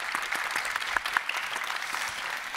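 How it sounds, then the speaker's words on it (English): Conference audience applauding panelists at a session on advanced therapies, a moderate, steady clatter of clapping from a mid-sized crowd with a few sharper claps close by. "So we give a big applause for the panelists."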